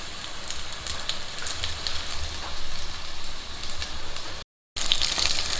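Shrimp and cod accras frying in hot oil give a steady, dense sizzle and crackle, close and continuous, broken once by a short moment of silence.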